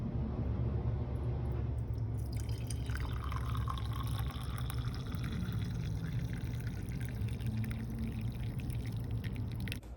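Freshly steeped coffee poured into a cup, giving a steady liquid stream and splash that fills the whole stretch at close range, with no talking.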